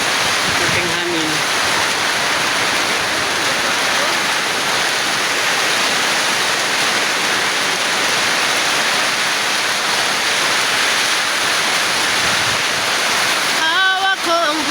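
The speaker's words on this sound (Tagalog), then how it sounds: "Grabe sa ulan oy." Heavy rain pours down in a steady, loud, unbroken roar that drowns nearly everything else, with brief snatches of children's voices near the start and end.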